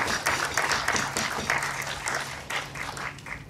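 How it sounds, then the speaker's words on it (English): Wedding guests at a country club reception applaud together, a steady, dense burst of clapping from a crowd that holds for several seconds at fairly close range, with no talking over it. "So let's give them a round of applause."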